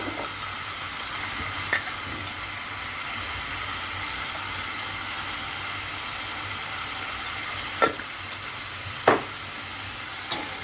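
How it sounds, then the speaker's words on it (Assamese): Low, steady sizzling of chicken frying in a pan, with a few faint clinks and knocks now and then, no voices. "চিকেনখিনি ভাজিব লাগিব এতিয়া 5 মিনিট, 10 মিনিটমান সময় আমি ভাজিম"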